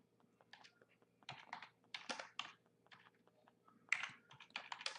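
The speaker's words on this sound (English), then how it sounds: "And all I'm doing is typing here." Fingers type on a computer keyboard in quick, irregular bursts of soft clicks, close but quiet, with short pauses between runs of keystrokes.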